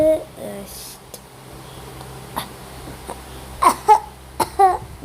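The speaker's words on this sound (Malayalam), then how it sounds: "ഇടയ്ക്ക് ചെറിയ ചുമ ഉണ്ടാവും" A few short, sharp coughs and throat sounds from someone commentating in Malayalam during a Free Fire game come in a cluster near the end, close and fairly loud, over a quiet background.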